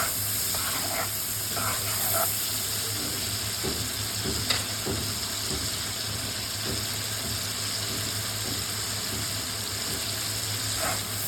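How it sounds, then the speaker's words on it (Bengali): Rohu fish head shallow-frying in a pan, a steady soft sizzle and hiss with occasional faint pops and stirring scrapes, heard close over a low background hum. "রুই মাছের মাথা একটু হালকা ভাজে নিচ্ছি আমি"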